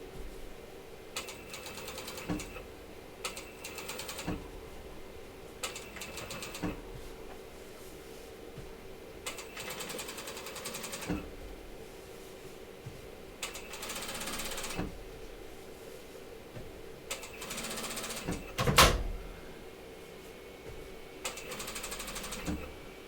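A sewing machine top stitching bathing suit fabric runs in repeated bursts, stopping and starting every couple of seconds, close and steady with a sharp click near the end.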